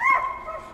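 A young hound puppy of about 13 to 14 weeks gives a single close, loud yip in a kennel. Redtick mixes with Treeing Walker blood, raised as deer dogs, and the yip fades into a short whimpering tail.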